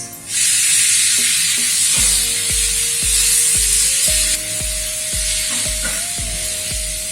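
Tomatoes go into a hot pan with sautéed onion and garlic for an egg masala and sizzle loudly and steadily. Repeated stirring knocks and scrapes sound close up over the frying hiss, and no one talks.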